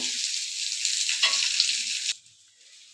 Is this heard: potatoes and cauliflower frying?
yes